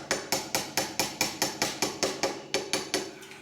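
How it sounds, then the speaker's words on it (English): Steady hammer blows drive pins through knife handle scales during a gluing step, about twelve sharp, evenly spaced metallic taps at close range with no talking. "I'd much rather have to hammer them through than having them just slip through"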